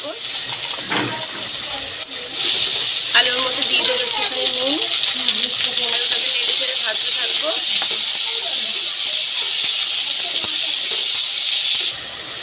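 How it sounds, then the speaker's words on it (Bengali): Long-cut potato strips drop into hot oil in a home kitchen and fry with a steady, loud sizzling hiss that lasts throughout, while a voice talks over it. "তেলটা গরম হয়ে গেছে আগে থেকে যে লম্বা লম্বা করে আলুগুলো কেটে রেখেছিলাম আলুগুলো তেলের মধ্যে"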